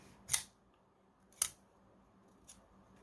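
Spyderco Smock folding knife flicked open and closed, three crisp metallic clicks spaced about a second apart, close and quiet otherwise.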